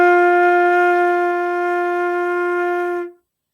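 A band instrument sustains one steady, clear pitched note for about three seconds, a tie joining two half notes into a single unbroken tone that fades quickly at the end, alone without talking.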